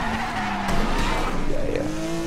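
A car's handbrake skid in Need for Speed Most Wanted: a racing engine drones while tires squeal in a wavering, pitch-shifting screech, loud and close, with brief player chatter.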